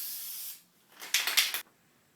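Hissing bursts of an aerosol spray paint can on a 1970 Mustang floor console, one long spray followed by several short pulsing sprays, close by with no talking.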